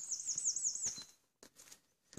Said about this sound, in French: On est au mois de février, les oiseaux de printemps chantent.